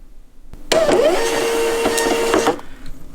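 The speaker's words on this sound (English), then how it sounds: "it should just send it to the FreeX machine and start printing automatically." A FreeX SuperRoll Wi-Fi thermal printer feeds out a 4x6 shipping label with a loud, close mechanical whir and buzz. The sound starts abruptly, runs for about two seconds and then stops, with no talking over it.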